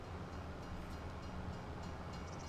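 A train rolls past in Farming Simulator 25 during forestry work, a low continuous rumble of wagons with faint high squeals, steady and fairly quiet throughout.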